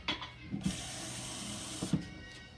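Water runs from a kitchen tap in a steady, close hiss with a few soft splashes, while lemon juice is being prepared for an apple pie.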